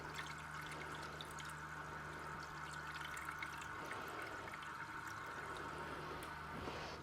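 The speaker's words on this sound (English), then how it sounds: "So just fill it up with some" Tap water runs steadily and quietly into a small plastic brine shrimp hatchery, a soft continuous trickle and pour with a faint background hum and no voices.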